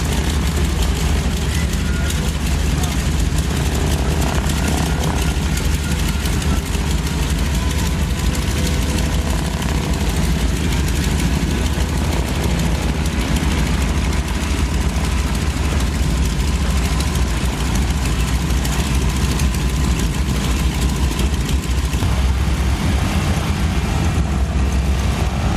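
Falcon flight aircraft at the Nellis air show give a loud, sustained roar, a dense continuous jet noise heard close and unbroken for the whole stretch.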